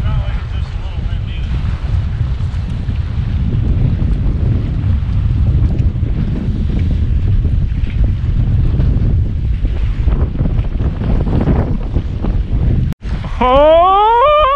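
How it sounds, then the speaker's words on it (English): Strong wind buffets the microphone on open water during a salmon fishing boat trip, a loud continuous roar with waves and the boat beneath it throughout, briefly cutting out near the end. "It's not like it's just a little wind"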